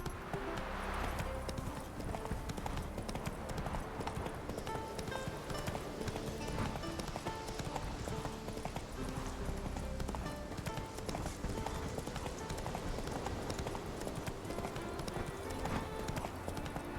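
Roach, the horse in The Witcher 3, galloping with a fast, continuous clip-clop of hooves over game ambience and music, fairly quiet, with little or no talking.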